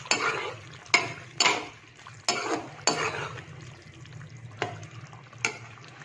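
A pan of chicken with ground ginger and dried coriander is stirred, giving repeated scraping strokes of a utensil against the pan at an uneven rhythm over a faint background hum.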